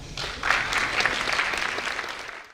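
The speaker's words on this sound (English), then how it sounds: "could stand up and give them a round of applause, that would be wonderful" Steady applause from an audience at an outdoor school plaza dedication ceremony, a dense wash of many hands clapping at moderate distance that holds evenly for a couple of seconds before tapering.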